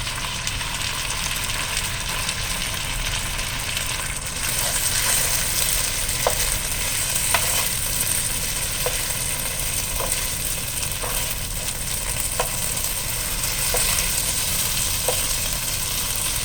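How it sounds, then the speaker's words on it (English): Onions frying in a pan until slightly burnt, a loud steady sizzle and crackle throughout with occasional light clicks of stirring. "Onions are coming along nicely. I'm going to burn them a little bit."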